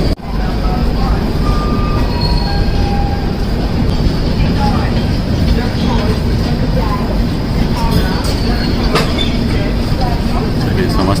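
The Bihar Sampark Kranti superfast express runs with a loud, continuous rumble of wheels on rails, scattered squeals and clatter, under nearby talking.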